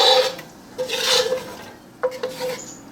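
A metal spatula stirring and scraping a browning roux in a pot for gumbo: rasping strokes against the pot bottom, close and fairly loud, with short metallic clicks and sweeps, no talking.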